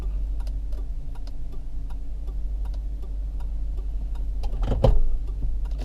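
Steady ticking of a car's turn signal indicator, a regular clock-like rhythm of soft clicks inside a quiet cabin over a low idle hum.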